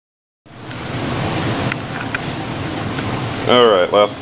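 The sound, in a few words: fuel draining from KTM 1290 motorcycle tank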